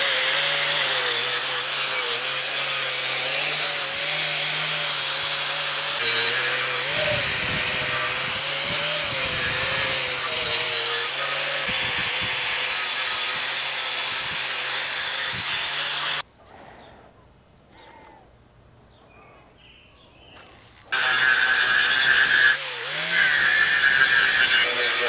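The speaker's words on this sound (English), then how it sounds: "We got it all ground out." An angle grinder grinding out a damaged pipe for a weld repair of dissimilar metals makes a loud, sustained whine for about sixteen seconds, drops away briefly, then roars back up near the end.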